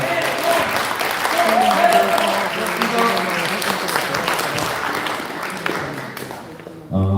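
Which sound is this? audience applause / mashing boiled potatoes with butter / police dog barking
audience applause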